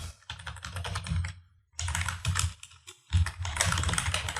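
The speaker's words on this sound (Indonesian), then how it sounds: "Dan di Chrome ini saya akan ketik https" Rapid keystrokes on a computer keyboard type a web address into a Chrome browser, arriving in three close, crisp bursts separated by brief pauses, with no talking.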